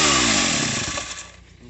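Stihl MS 462 chainsaw engine running loud and close, a steady high-revving buzz that slowly eases down over its short span, alone with no talk.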